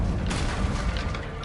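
A burst of the Incendio fire spell in Hogwarts Legacy lands as a short, loud, whooshing boom with a crackling rush, filling the brief moment without any voice.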